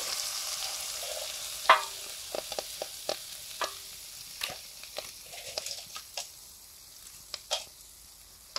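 A spoon stirs a thick curry in a sizzling frying pan, with a steady hiss of frying beneath scattered scraping and tapping strokes against the metal, close by.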